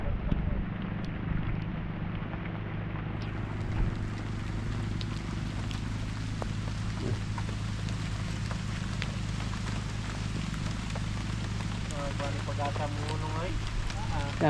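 Steady rain falls around a house with a continuous broadband hiss, and people talk nearby toward the end.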